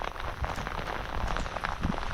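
Pouring rain on open moorland at Dartmoor, a steady, dense hiss and patter of drops drumming on surfaces, continuous and fairly close with no talk over it.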